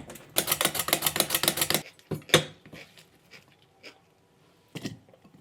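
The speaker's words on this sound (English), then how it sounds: "The cucumber is mostly for garnishing, so I'm just gonna cut it with a slicer." Rapid, even chopping taps of a blade slicing cucumber for garnish, a quick burst of about a dozen crisp cuts, then scattered clinks and handling noises in a quiet kitchen.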